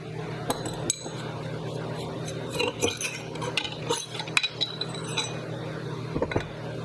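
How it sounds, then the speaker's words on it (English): Metallic clinks and light knocks from pulling the damper cartridge out of a KYB motorcycle fork on a KTM, GasGas or Husqvarna, scattered through the clip over a steady low workshop hum. "now we're going to take out the damper cartridge"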